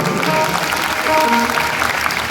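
An audience at a village jagran, a night-long devotional singing event, claps steadily in a dense, continuous burst of applause that fills the whole stretch.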